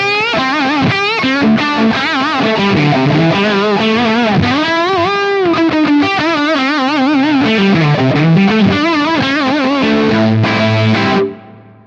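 Electric guitar played through an Axe-Fx III Marshall amp model with an ML cab pack based on pre-rola Celestion speakers, a loud, distorted lead line with bends and vibrato that rings out and stops abruptly.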